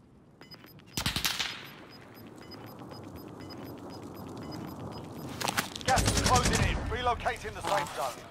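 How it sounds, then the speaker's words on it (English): Video game gunfire: a sharp loud shot near the start, then a quieter stretch and a dense rattle of automatic fire, with voices talking over it. "why are we shooting?"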